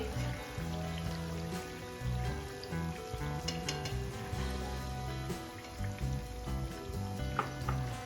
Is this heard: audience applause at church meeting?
no